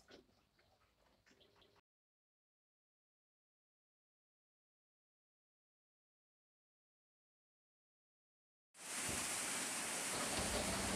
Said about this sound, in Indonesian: ya, hujan sudah hujan di tempat kami